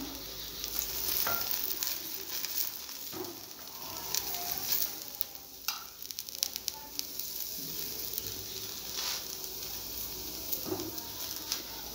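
A radish paratha brushed with ghee sizzles and crackles steadily on a hot griddle, with occasional soft taps and scrapes of a spatula close by.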